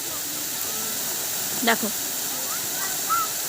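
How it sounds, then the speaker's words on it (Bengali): Fountain water pours in a steady broadband hiss that stays even throughout, with a brief spoken word and a few faint voices over it. "দেখো এবার ঝর্ণাটার আওয়াজটা কিন্তু কমে গেল, জলের ফ্লোটা"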